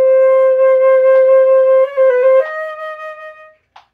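A single band instrument plays a sustained tone that shifts through a few quick pitch changes before settling, a short solo passage from a middle school band etude, close and fairly loud with a brief click at the end.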